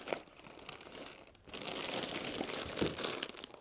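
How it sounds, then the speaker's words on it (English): Plastic bags holding vintage 1970s–80s knitting yarn crinkle and rustle in a steady, close, fairly loud stretch, with a brief pause partway through. "I've put it all in plastic bags anyway."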